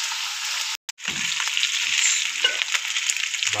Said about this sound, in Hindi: शिमला मिर्च को हल्का सा ज़रा मुलायम होने देंगे